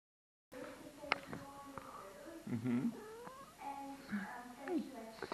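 A cat meows several times in short, rising and falling calls, with a soft purring rumble and some bursts of noise between them.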